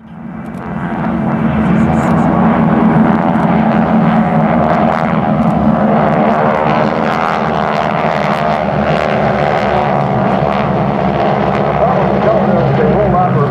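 World War II propeller aircraft of the Geico Skytypers fly low and fast over the runway at the 2010 Westfield International Airshow, a loud, steady engine drone that rises fast and holds for the rest of the clip.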